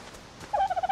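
Chicken in the game ARK clucking: after a short quiet stretch, a run of rapid, close, fairly loud bursts repeats in quick succession to the end.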